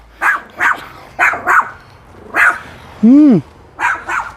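A small dog barks close by in short, sharp yaps, mostly in pairs, with one rising and falling whine in the middle.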